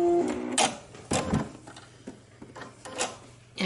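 Sewing machine stitching and backstitching the side seam of border-print pants, short mechanical whirring bursts and clicks separated by brief pauses, close and fairly quiet.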